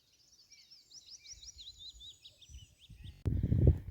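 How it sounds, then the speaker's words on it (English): Birds sing in a pine wood along the Offa's Dyke path near Knighton, a run of quick, faint chirping phrases, with soft rustling and footstep-like thuds that turn to loud, close handling noise near the end. "You can hear a lot of birds."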